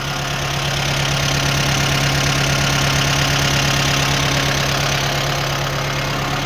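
A four-cylinder diesel tractor engine idles steadily nearby with a low, even knocking rhythm and no talking.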